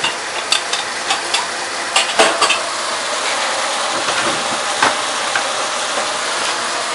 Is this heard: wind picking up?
no